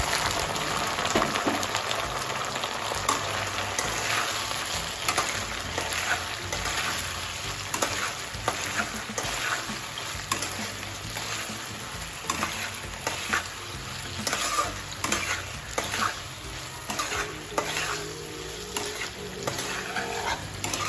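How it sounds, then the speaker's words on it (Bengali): Steady sizzling and frying of fried chicken being stirred through sauce in a pan, with a dense crackle and frequent scraping, stirring strokes throughout, close and continuous with no talk. "মিক্স করা সস তার মধ্যে দিয়ে ভেজে রাখা চিকেনগুলিকে দিয়ে ভালো করে নাড়িয়ে চাড়িয়ে নিতে হবে"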